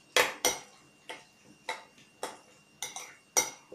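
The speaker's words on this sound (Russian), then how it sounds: "Перемешаю." A spoon clinks sharply against a bowl while mackerel stuffing of fried onion, fried carrot and mushrooms is mixed with mayonnaise, giving about eight distinct taps in an uneven rhythm, close and clear with no talking.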